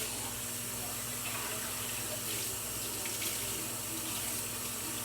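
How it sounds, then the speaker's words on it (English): Tap water runs steadily from a kitchen faucet into the sink as string beans get rinsed, a continuous close hiss of flowing water with a low hum underneath and no talking. "I'm gonna rinse them off really good."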